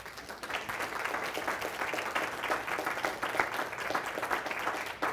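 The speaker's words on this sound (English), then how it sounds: "I'd like to give a nice departure and round of applause for Dr." Audience applause at the close of a functional-medicine weight-loss lecture session, a steady, fairly distant round of many hands clapping at even intensity throughout, with no talking over it.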